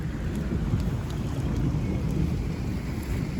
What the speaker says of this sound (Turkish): yağmur da yağmaya başladı